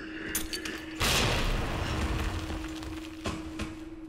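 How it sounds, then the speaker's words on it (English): A frag grenade goes off in Resident Evil 2, a sudden loud explosive burst followed by a rumbling decay with sharp crackles, set over a steady low game hum. "I have a frag grenade"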